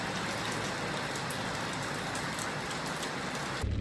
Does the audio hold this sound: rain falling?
yes